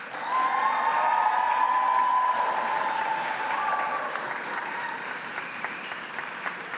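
A graduation ceremony audience in Chelmsford applauds steadily for several seconds, a dense wash of many hands clapping that swells early and then slowly tapers, with a little cheering mixed in and no speech over it.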